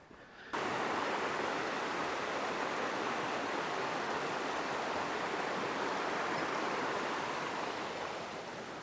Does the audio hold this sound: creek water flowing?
yes